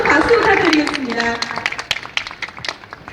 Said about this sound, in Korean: 여러분들 다시 한번 큰 박수 부탁드리겠습니다